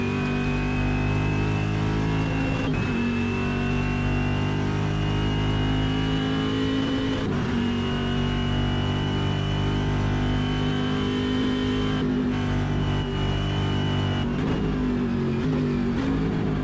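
A race car engine in a sim racing video game holds a loud, continuous tone with sustained high revs, brief dips at gear shifts and returning climbs, steady and unbroken throughout.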